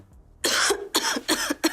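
Four sharp coughs in quick succession after a brief quiet start, loud and close, each a harsh burst.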